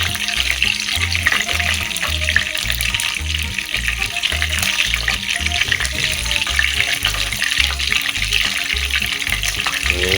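Shrimp tempura deep-frying in hot oil, a loud steady crackling sizzle running throughout with bursts of bubbling, no voices over it.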